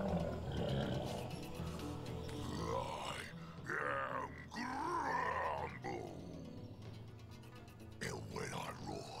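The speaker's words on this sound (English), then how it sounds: "And when I roar, the birds take flight." A creature in the video game Divinity lets out deep guttural grunts and drawn-out roaring growls, loud and close, rising and falling over a low rumbling game backdrop.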